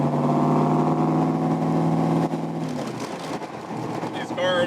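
A Backdraft Racing Shelby Cobra 427 V8 holds a loud, steady low rumble that then rises and roughens into a throatier rev, with harsher bursts near the end and voices talking over it.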